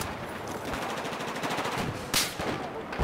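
Gunfire in the video game Battlefield 4, dense rapid automatic shots rattling steadily throughout, with a few sharper loud cracks standing out near the end, fairly close and continuous.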